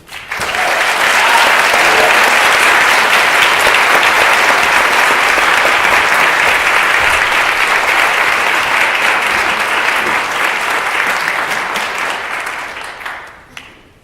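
Sustained audience applause welcoming lecturer Silvia Federici at a January 2019 lecture, steady and loud clapping that fills the room for about twelve seconds before tapering off at the end.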